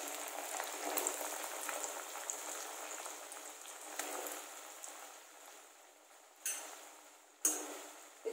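Suran (elephant foot yam) pieces frying in hot oil in a kadhai, a soft steady hiss with a few sharp metallic clinks and knocks near the end, quiet and unaccompanied by voices.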